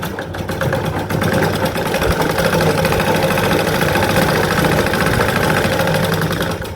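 A sewing machine runs steadily through chudithar fabric, its close, continuous motor whir and rapid needle rhythm holding without pause for the whole stretch.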